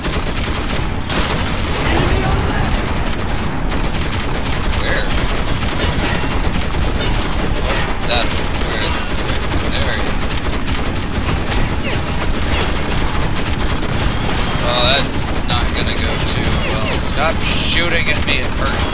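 Constant loud gunfire and rapid bursts from a first-person shooter game, Metro 2033 Redux, dense and continuous throughout with little pause.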